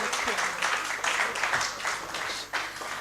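Sustained audience applause fills a hall at a business-of-law conference, a dense, steady wash of many hands clapping at close range throughout, with faint voices mixed underneath.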